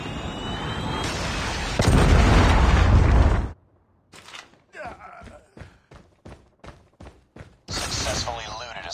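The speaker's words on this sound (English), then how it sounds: "Friendly Predator missile inbound." A Predator missile impact in a shooter video game: a loud rumbling blast, then a run of sharp separate thuds and shots, and a second burst of roar at the end.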